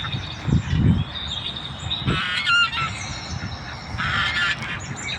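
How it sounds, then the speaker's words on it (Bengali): Chinese geese honk at a park pond in Aspire Park, Doha, Qatar, with several loud, nasal calls in bursts that stand out above a steady outdoor background. "চীনা হাঁস দেখুন বন্ধুরা, অনেকগুলো চীনা হাঁস এখানে।"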